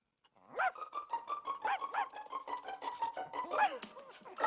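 A small dog yaps and whines in a scene from the film Elvira: Mistress of the Dark, a close, continuous run of high, tonal barks and whimpers lasting several seconds.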